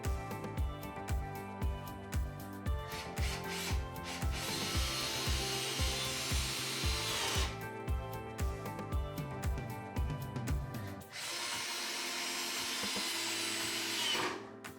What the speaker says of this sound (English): I used my pocket hole jig.